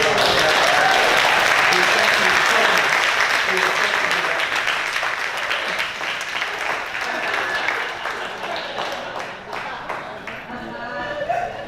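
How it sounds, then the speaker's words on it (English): A church congregation at a worship and celebration service applauds in a loud burst that gradually thins and fades, with some voices mixed in underneath. "Can we have a round of applause?"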